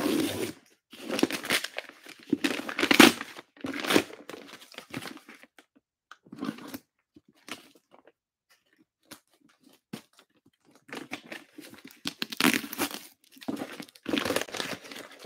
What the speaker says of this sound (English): We're not even going to finish taking it out of the paper.